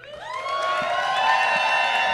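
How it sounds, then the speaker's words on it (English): A crowd at a RuPaul's Drag Race Season 17 viewing party cheers and whoops loudly, a sustained wall of high-pitched shouting that swells in the first half-second and holds steady for the rest. "Give him a round of applause, Roscoe."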